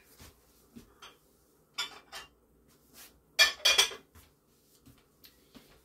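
Clinks and scrapes of a utensil against a pot and bowl while dishing up potatoes, smoked sausage and onion cooked in an Instant Pot, a few sparse knocks then a brighter cluster of metallic clatter, close by with no talking.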